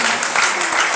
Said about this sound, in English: please let's clap for ourselves